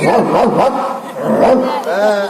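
A man imitates a dog's barking with his voice during a comic Yakshagana stage performance: a run of loud, close, yelping bow-wow calls with brief pauses between them.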